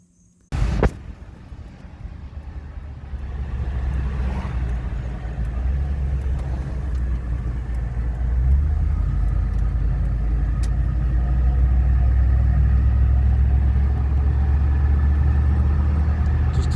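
A 1985 Dodge W150 truck pulls away after a door thud, then its engine drones steadily from inside the cab with road rumble that deepens and swells as it gathers speed.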